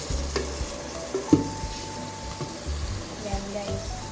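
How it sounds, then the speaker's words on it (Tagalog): Tomatoes sautéing in a pan while being stirred and mashed for ginisang munggo, a soft sizzle with scraping, knocking utensil sounds, and a person speaking intermittently. "itignan natin kung okay na yung kamatis at durug-durugin natin"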